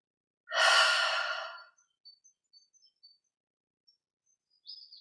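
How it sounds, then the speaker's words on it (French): One long, soft breath is exhaled during a meditation session, close and alone, followed by near silence with a few faint, tiny high chirps. "On expire en 3 fois."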